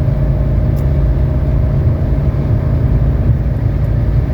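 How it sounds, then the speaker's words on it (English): A 1985 Mercedes 300D diesel accelerating after a transmission kickdown, a steady loud low engine drone and road rumble heard from inside the car. "Just kick down a gear."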